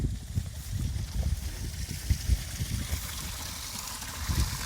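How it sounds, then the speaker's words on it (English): A small waterfall spills down an old, re-landscaped stream bed amid lush grass, giving a steady wash of falling water with low gurgling pulses underneath, fairly close and continuous with no talking. "A little waterfall there."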